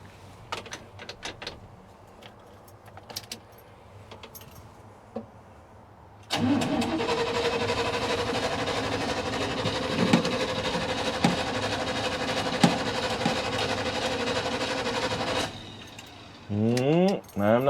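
Starter cranking a 1987 Chevy square-body shortbox pickup engine that turns over steadily without catching, a loud continuous churn lasting about nine seconds after quieter rustling, then short bursts near the end.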